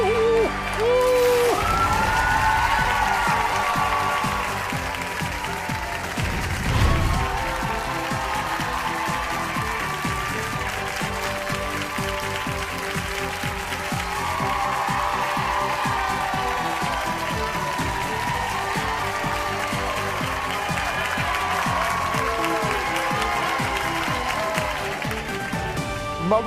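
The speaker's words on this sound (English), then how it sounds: "Look at who's cheering for you. The village is with you." A large crowd cheers and applauds continuously with whoops and shouts, a loud, unbroken wall of noise carrying on for nearly half a minute with voices mixed in.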